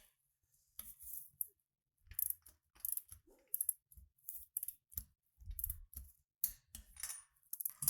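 A torque wrench clicks while tightening a Ford equipment connection fitting, giving short bursts of sharp ratcheting clicks repeated in an even rhythm, close and clear against silence.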